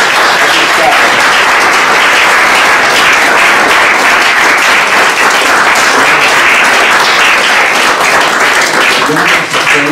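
An audience applauds an honoured guest at an honorary members' award ceremony, with steady, dense clapping that holds loud for the whole span, plus a few voices mixed in.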